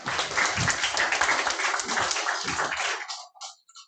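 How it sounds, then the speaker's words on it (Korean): An audience applauds after a lecture at a business group meeting, with dense, loud clapping that carries on for about three seconds before thinning out to a few scattered claps. "다시 한번 큰 박수 드리겠습니다"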